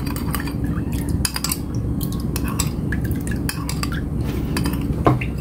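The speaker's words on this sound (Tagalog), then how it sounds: "Lagyan natin ng oyster sauce. Mix." Oyster sauce stirred into a pan of salmon with mushroom sauce: a utensil scrapes and clatters against the pan continuously, with light liquid sizzle underneath, loud and close, and no talking.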